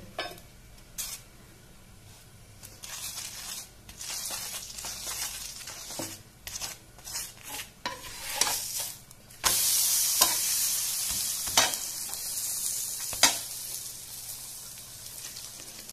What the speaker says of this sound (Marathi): हे पळया आतां आमी तो पराठा परतुया आनी बरें तूप लाया नाजाल्यार बटर लाया